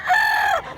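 A single short crow from a stag rooster, clear and fairly close, lasting under a second.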